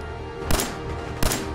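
Two sharp gunshots about 0.7 seconds apart ring out in Fallout 4 combat, each a loud broadband crack with a short tail over steady background noise.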